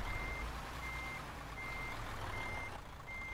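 Reversing beeps of a truck in the Euro Truck Simulator 2 video game: a steady series of evenly spaced electronic tones over a constant low engine rumble, moderately faint, with no talking.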